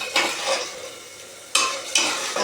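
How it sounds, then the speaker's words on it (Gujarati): A vegetable curry of moth beans is tempered and fried in a village kitchen, with a steady sizzle broken by three sharp bursts of hissing as ingredients hit the hot oil, with light stirring between them. "મસ્ત મસ્ત વઘારી રહ્યા શાક"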